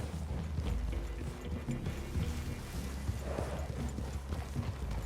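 Horse hooves clip-clop on the ground in the video game Red Dead Redemption 2, a soft, fairly quiet, uneven stream of hoofbeats over low ambient rumble.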